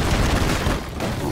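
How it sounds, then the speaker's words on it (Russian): Gunfire in an Arnold Schwarzenegger-themed video game, a dense continuous volley of shots and booms running loud through the whole moment with a brief dip partway. "Он все еще стреляет."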